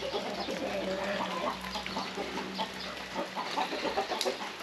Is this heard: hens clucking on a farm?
yes